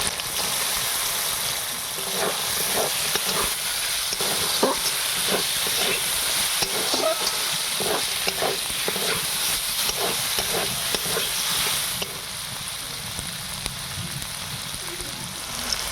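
Potatoes frying in hot spiced oil, a dense continuous sizzle and crackle close up with scattered stirring scrapes, easing slightly toward the end.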